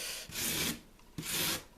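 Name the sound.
rasp smoothing foam to shape a model riverbed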